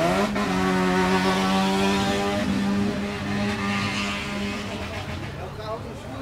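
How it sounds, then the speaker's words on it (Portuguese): A car passes along a street in Curitiba, its engine a loud harmonic drone that swells and then slowly fades as it moves away, while voices chatter over it. "Olha o carro do Churros."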